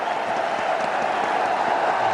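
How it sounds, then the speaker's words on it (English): Applause rises at a cricket one-day international between India and South Africa as a batsman reaches a half century, a dense, even wash of clapping from the ground, steady and fairly loud throughout. "And he gets the applause from the dressing room."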